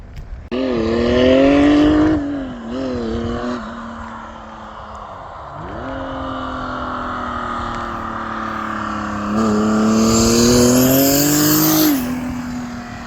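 A loud, close OM606 diesel drag car engine revs hard, rising and falling in pitch with a throaty, aggressive roar, then climbs to a high scream before dropping off.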